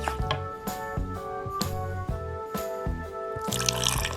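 Water poured into a cooking pot while preparing pinaypay na saging, a close liquid splash and trickle with dripping and sloshing, brightening into a fuller gush near the end.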